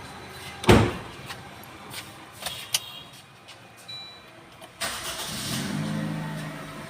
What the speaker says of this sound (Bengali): গাড়িটা স্টার্ট দিয়ে দেখাচ্ছেন দাদা